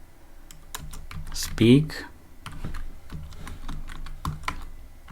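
Quick, light clicks of a computer keyboard as Python code is typed, scattered in short bursts at close range, with a brief spoken word partway through.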